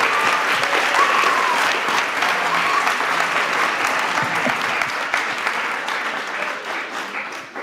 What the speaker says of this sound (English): Can we give another round of applause for all our veterans?